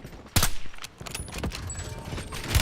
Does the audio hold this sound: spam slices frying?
no